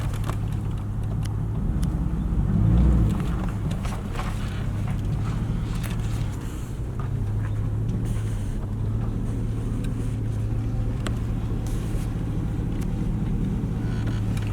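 A pickup truck fitted with tow mirrors backing into a spot, a steady low engine hum with some wind buffeting on the microphone, continuous and close, with no talk.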